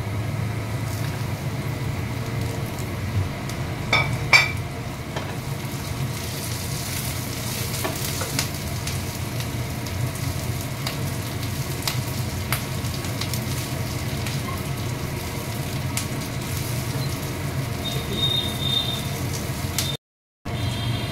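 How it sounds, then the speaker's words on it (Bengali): Capsicum pieces are tossed into hot oil with fried garlic, giving a steady close sizzle and frying hiss with occasional stirring scrapes, continuous throughout and ending in a brief cut to silence near the end. "এই রসুনটা ভাজা হয়ে এসছে, এইবারে আমি ক্যাপসিকামগুলো দিয়ে দেবো"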